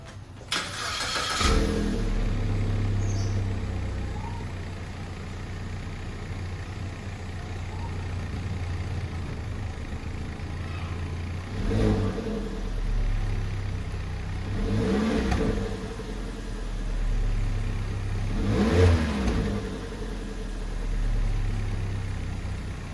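A car engine starts and settles into a low steady idle, with three short revs rising and falling over the rumble.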